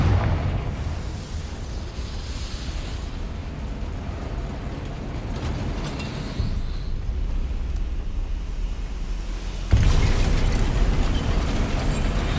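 A Confringo fire spell blasting in Hogwarts Legacy on PS5, a continuous rumbling roar of explosions with a sharp louder burst near the end, no talking over it.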